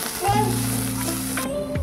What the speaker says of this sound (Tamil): இது எல்லாத்தையும் சேர்த்துட்டு நல்லா வதக்கி விட்டுக்கலாம்